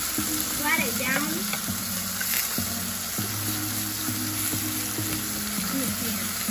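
Hamburger meat frying in a pan, a steady close sizzle running throughout with occasional scraping and clinks, while a low background hum and faint voices sit underneath.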